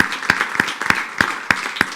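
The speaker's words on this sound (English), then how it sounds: "let's give him another round of applause" An audience at a school board meeting applauds, a steady dense clapping with a few sharper regular claps standing out, close and continuous for the whole stretch.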